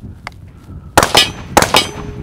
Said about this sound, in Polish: 2 strzały